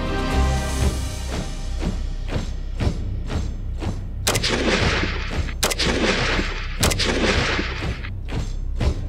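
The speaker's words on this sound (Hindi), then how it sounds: "और हमने 200 मीटर से 3 राउंड और 100 मीटर 3 राउंड फायर किए।" Rifle rounds fired at targets on a military range from 200 and 100 metres, a series of sharp, loud shots in irregular succession with booming reports and echoes, no talking.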